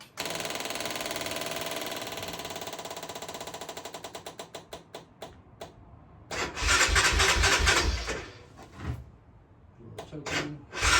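A 1990 Honda Foreman Fourtrax 350 4x4 ATV engine cranks with a rapid starter whir that slows and stutters, then catches and revs loudly in surges before dropping back and revving again, close up.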